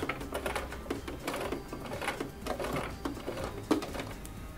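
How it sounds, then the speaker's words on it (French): Sewing machine stitching along the edge of fabric at a steady rapid clatter, close and fairly loud, running continuously with brief pauses and no talk. "Au début, je fais toujours à la main pour aider à la machine de commencer la couture."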